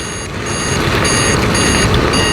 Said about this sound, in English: don't mind the beeping you're hearing in the background